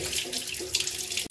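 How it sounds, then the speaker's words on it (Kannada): Tap water runs steadily from a kitchen faucet over a gas stove burner being rinsed, a close and continuous splashing hiss with no talking. "ಈಗ ಇದನ್ನು ನೀರು ಬಿಟ್ಕೊಂಡು ಕ್ಲೀನ್ ಮಾಡ್ತಾಯಿದ್ದೇನೆ"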